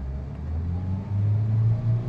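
A Toyota Vios engine idles, then revs as the accelerator is pressed. The low hum steps up to a louder, steadier drone about halfway through, with no talking over it.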